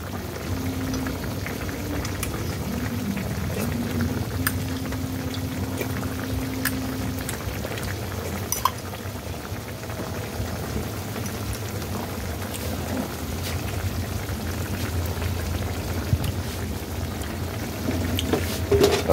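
A pot of sour and spicy enoki mushroom soup boils hard nearby, with a continuous bubbling, popping roar and occasional sharper pops throughout, and no talk over it.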